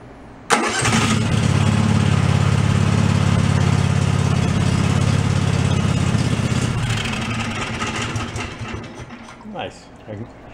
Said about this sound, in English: Go crank her over and see if we get some fuel coming out of the fuel pump.